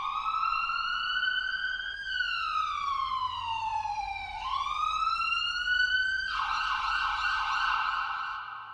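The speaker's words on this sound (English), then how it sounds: "The police siren plays, then the drums come in." A police siren sound effect inside an FL Studio beat wails in a smooth rising and falling sweep, loud and continuous, ending with a grainier textured tone.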